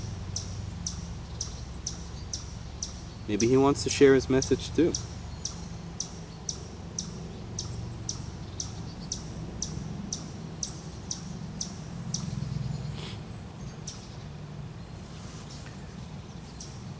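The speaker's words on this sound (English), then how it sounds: "this one bird has a lot to say" Outdoors, a single bird repeats a high, evenly spaced chirping call throughout, faint and steady, while a person speaks briefly partway through.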